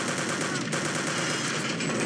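Dense, continuous weapon fire from the World War II shooter Return to Castle Wolfenstein, with rifle and MP40 submachine gun fire blending into a loud, unbroken wall of gunfire for the whole stretch.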